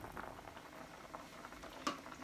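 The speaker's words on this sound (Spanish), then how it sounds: "Aquí ya empezó a hervir, tiene ya 2 minutos hirviendo" Water with potatoes in a pot bubbles at a boil, soft irregular patter and popping, quiet, with one brief sharper knock near the end.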